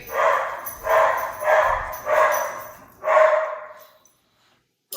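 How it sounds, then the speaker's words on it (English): Dogs bark in five loud, evenly spaced woofs, each ringing out briefly before the next, then silence falls at the end. "apologize for the dogs barking in the background"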